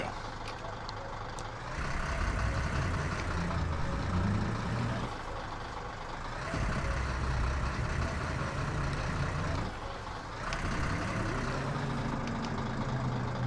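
A truck engine rumbles in the My Summer Car video game, a loud, continuous low drone that swells and surges in three revving stretches separated by brief lulls back toward idle.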